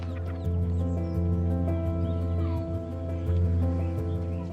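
Chickens on a small family poultry farm cluck repeatedly in short irregular bursts over a constant low hum, close and fairly loud throughout.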